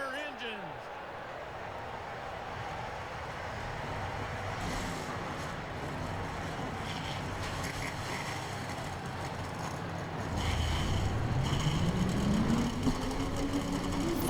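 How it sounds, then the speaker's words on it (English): Forty-two stock car engines fire up together at Talladega Superspeedway in the video game NASCAR Racing 2003, a steady low rumbling drone that swells near the end as one engine revs upward. "42 cars fire up here at the Talladega Superspeedway"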